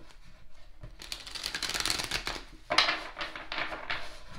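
Cards are shuffled close by in quick riffling bursts, a soft papery flutter that pauses briefly then resumes with sharper snaps.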